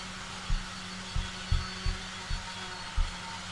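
A vacuum runs in a workshop, drawing dust away from a sander. It gives a steady, fairly quiet broadband rush, with a series of six low thumps repeating roughly every half second.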